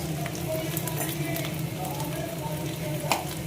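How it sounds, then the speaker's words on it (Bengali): Sago papad frying in a pan gives a steady, close crackling sizzle with soft bursts and a low hum underneath, without pause. "পাঁপড় ভাজছি আর এদিকে চা বসিয়েছি"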